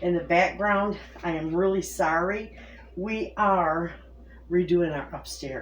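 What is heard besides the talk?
No everyday noises stand out.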